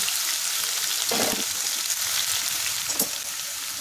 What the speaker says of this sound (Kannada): ಇದು ಒಗ್ಗರಣೆ ಹಾಕೋದು